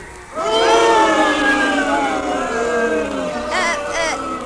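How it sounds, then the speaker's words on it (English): Baseball crowd in a ballpark booing as the umpires walk onto the field, a loud sustained jeer from many voices filling the stands, with a short separate burst of voices near the end. "What are they booing about? Oh, the umpires are coming out on the field."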